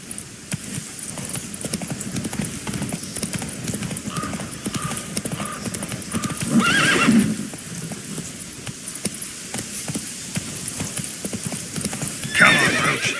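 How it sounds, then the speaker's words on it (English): A horse gallops in the video game The Witcher 3, its steady clip-clop hoofbeats running throughout, with loud whinnies breaking in near the middle and again at the end and a voice speaking briefly. "Run, Roach"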